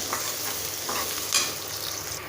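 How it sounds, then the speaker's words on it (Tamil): Onions sauté in ghee with a bright, steady sizzle and soft scraping strokes from stirring, one sharper clink in the middle, heard up close without speech. "வெங்காயம் வந்து நெய்யில் நல்லா வணங்கிடுச்சு"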